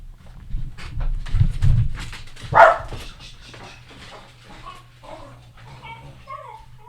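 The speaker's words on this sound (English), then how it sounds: "My dog is growling." Dog growling low and then letting out a brief whine, close and fairly loud in a quiet indoor room, with soft whimpering noises trailing off afterward.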